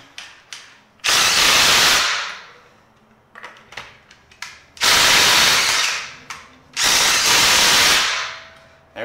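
A Dewalt impact wrench removes nuts in three loud, hammering bursts of about a second or more each, close up, separated by quieter clicks and handling noise.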